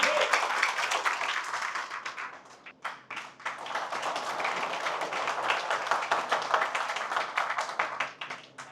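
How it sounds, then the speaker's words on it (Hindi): An audience at a corporate training session claps in sustained, dense applause lasting several seconds, dipping briefly before swelling again and fading toward the end. "तालियां हो जाए इनके लिए, थैंक यू सो मच।"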